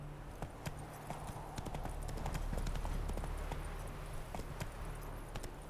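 Clip-clop of the horse Roach galloping in The Witcher 3, a fast steady run of hoofbeats close by over a low rumbling backdrop, with no talking.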